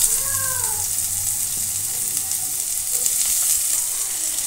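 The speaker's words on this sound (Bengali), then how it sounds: "এবার আমি দিয়ে দেবো পেঁয়াজ কুচি" Chopped onion frying in hot oil with whole cumin and two dried red chillies, a loud, steady close-up sizzle that continues unbroken, with a few faint stirring scrapes underneath.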